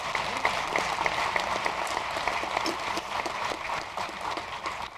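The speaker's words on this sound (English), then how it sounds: "So let's give him a round of applause." Audience applause at a formal economic policy event, a moderately sized crowd clapping at middling distance, steady and fairly quiet, tapering slightly toward the end.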